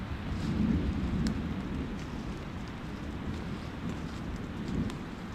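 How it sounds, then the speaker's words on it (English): Heavy rain pours steadily at a campsite while deep thunder from an approaching storm rumbles low and continuously beneath it, swelling briefly louder near the start and end. "we have a storm around us somewhere, so I'm hearing thunder"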